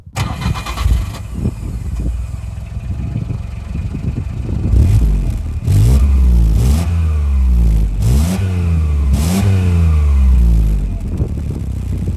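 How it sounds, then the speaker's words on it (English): A small 1993 Subaru Justy engine cranks and starts, then revs up and down repeatedly in strained bursts, close and loud. "all that muscle sounds a little bit like this"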